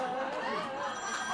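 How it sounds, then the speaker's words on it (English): Many cell phones ring at once during a comedic stage musical, forming a dense, steady wash of overlapping electronic tones with a faint murmur of crowd chatter beneath. "12 cell phones ringing."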